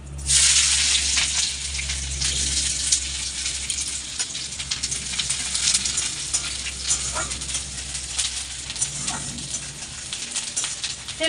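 Chopped onion dropped into hot oil already crackling with cumin and cloves, giving a steady broad sizzle that holds at an even loudness throughout, close and with no talk over it.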